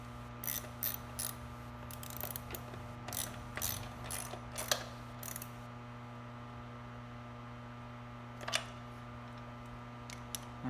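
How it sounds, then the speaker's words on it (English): Ratchet clicking in short, quiet bursts as the binder bolt nut is tightened on the seat post of a Sun Traditional electric trike, over a steady low mechanical hum with no talk. "He's going to tighten up the binder."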